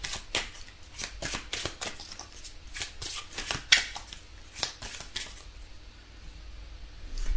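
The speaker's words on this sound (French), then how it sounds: "Oui, je vais tirer encore quelques cartes." Oracle cards being shuffled by hand, a quick run of crisp riffling flutters and soft card slaps close by, easing off into quieter handling toward the end, with no speech.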